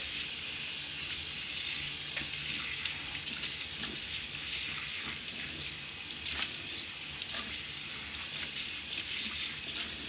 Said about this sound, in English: I'm just going to go ahead and rinse this dirt out right here.